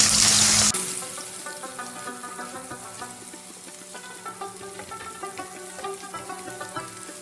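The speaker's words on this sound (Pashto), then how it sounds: "سب به دا فرای کړو چې لږ ټرانسپیرنټ شي" Onions fry in hot oil for Peshawari lobia, a soft crackling sizzle with scattered pops and light stirring following a brief loud rush at the start.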